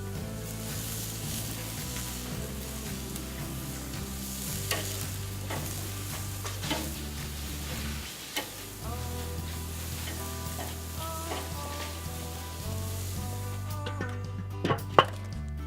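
Steak kebab skewers sizzling on a grill for about eight minutes; a continuous soft sizzle over a low steady hum, with scattered clicks and scrapes as the skewers are handled near the end.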